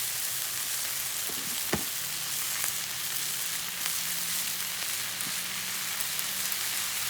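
Food frying in oil on a Blackstone griddle, a loud, dense, even hiss of sizzling that fills the whole stretch, with an occasional faint tap of a spatula beneath it.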